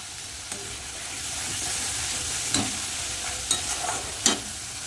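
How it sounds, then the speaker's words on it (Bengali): Spice masala with chilli powder and turmeric frying in a pan for doi katla, a close, steady sizzle broken by several spoon scrapes and stirring clatters toward the end, with no voices. "ভালো করে মশলাটা কষিয়ে নেব"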